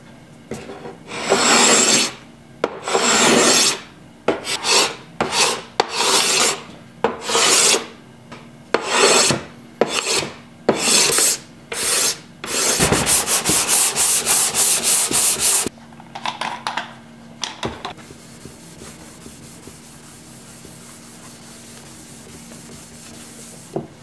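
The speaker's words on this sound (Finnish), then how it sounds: "Kaavin toisenkin jatkopalan." Repeated rhythmic rasping strokes of a cabinet scraper across a wooden surface, close and steady, ending in a faster run of short scrapes before the work goes quiet.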